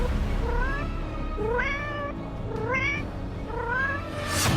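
A cat meows several times in a row, with four distinct rising meows spaced about a second apart and heard clearly at moderate volume.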